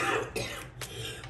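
A short cough or throat-clear with a couple of rough bursts, close and fairly quiet, with no talking.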